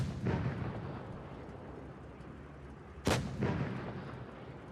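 Two booming tank cannon shots in World of Tanks Blitz during a tournament match, one early and one sharper blast about three seconds later, each followed by a rumbling tail over steady game ambience.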